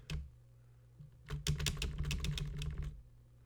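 Computer keyboard keys are pressed in a quick run of taps, with backspace being struck repeatedly, close and clear with no talk over them.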